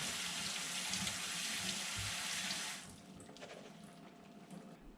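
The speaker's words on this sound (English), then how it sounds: "then just use your sink sprayer" Kitchen sink sprayer rinsing drained canned beans, a steady broad hiss of spraying water for almost three seconds before it cuts to a softer trickle.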